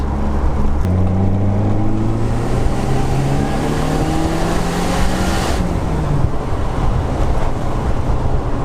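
A Lotus sports car engine drones steadily under loud wind buffeting, its pitch sliding upward through gear changes as the car accelerates, close and continuous.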